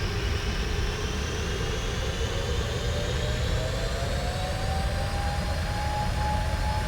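Boeing 747-400 jet engines spool up in a flight simulator game while the airliner is held on the brakes for takeoff at Cape Town, a loud, steady roar with a slowly rising whine.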